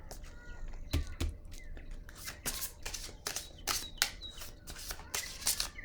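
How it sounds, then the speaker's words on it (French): Tarot cards laid down one after another on a table, a series of soft, close papery slaps and brushes at an irregular rhythm with quiet pauses between them. "Je vais déposer une autre carte ici."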